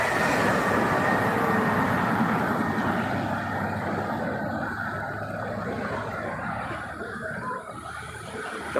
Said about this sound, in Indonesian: Nah, ini CIT, wih, cepatnya melesat ya.